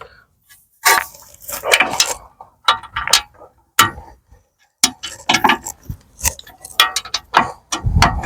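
Wheel bolts on a BMW E92 3 Series get tightened with bursts of ratcheting and metallic clicking separated by short pauses, nearby and with no talk.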